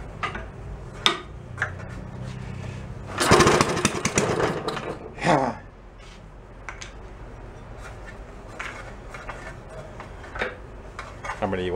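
An antique five-dollar Briggs & Stratton small engine sputters and runs roughly, with a loud burst of revving around the middle, then settles into a faint steady idle as people talk nearby.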